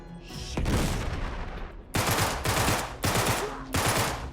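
Close, loud gunfire and explosions in the video game Uncharted 3: a booming grenade blast, then several sharp rapid-fire bursts separated by short gaps.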